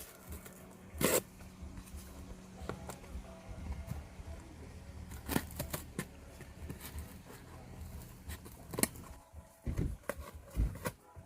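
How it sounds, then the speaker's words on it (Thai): Scissors punch air holes into a cardboard packing box for shipping kale, giving a handful of quiet, sharp crunchy pokes at irregular intervals over a soft background. "เราใช้กรรไกรเจาะอย่างนี้ได้เลย"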